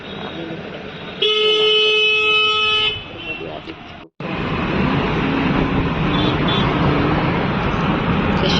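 A taxi arriving on a Mumbai street gives one long, loud horn blast lasting nearly two seconds, followed by a brief dropout and then a steady rumble of engine and road noise up close.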